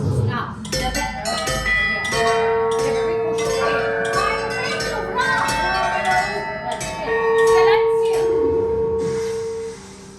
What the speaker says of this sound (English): Do you see that bell in the corner of our shop? I'd like you to make it ring one time.